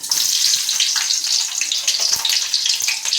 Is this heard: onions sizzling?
yes